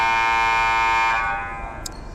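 A loud, sustained electronic basketball scoreboard buzzer blares for about a second at a varsity girls' game, then cuts off, leaving a faint noisy room tone.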